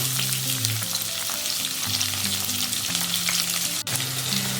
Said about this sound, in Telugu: ఇప్పుడు అందులోకి కట్ చేసిన ఆనియన్స్ని వేసుకుందాం